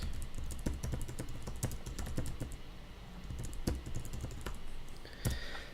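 Fingers type a password on a computer keyboard with a run of crisp, close key clicks at an uneven pace, a few sharper taps standing out.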